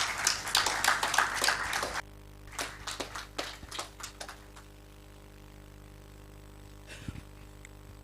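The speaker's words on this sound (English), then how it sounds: "Another round of applause for Dr. Derry" A short burst of clapping from a small conference audience at a climate dialogue fades out after a couple of seconds, followed by a few scattered, isolated claps.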